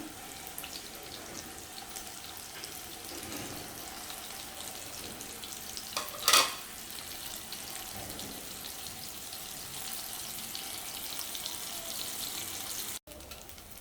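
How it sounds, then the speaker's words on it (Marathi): Chana cutlets shallow frying in hot oil in a pan over low to medium flame, a soft, even hiss that runs on steadily and faintly, with one brief louder crackle midway and no voices. "आता आपण हे शॅलो फ्राय करणार आहोत तर इथे पॅनमध्ये मी तेल गरम करून घेतलेलं आहे"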